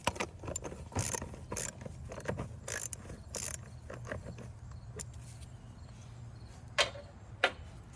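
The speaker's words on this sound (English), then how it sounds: "And then there's also a clamp that holds this on, and you have to loosen that up." Clamp on an engine air filter housing being loosened, giving a run of quiet ratcheting clicks and small metallic clatters, close by and faint, with sparse sharp taps near the end.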